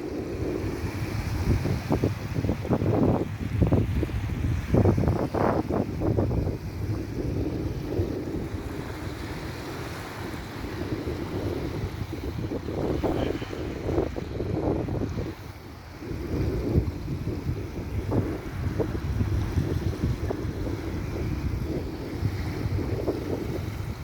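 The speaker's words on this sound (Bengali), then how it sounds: "সম্পূর্ণ ভিডিওটি দেখুন, পানির গর্জন শুনুন।" Rough water and waves on the Tetulia river roar continuously under heavy wind buffeting the microphone, a steady loud wash with surging gusts and no speech.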